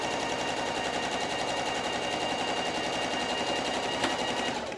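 Sewing machine stitching a straight line across fabric for a makeup bag, running continuously with a fast, even rattling hum at close range throughout.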